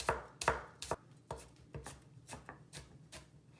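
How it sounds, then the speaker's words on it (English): A knife chops green onions into thin slices on a cutting board for Ants Climbing a Tree noodles, about ten crisp, close thuds in an uneven rhythm, alone without talk. "Now we cut the green onions. Cut it into thin slices."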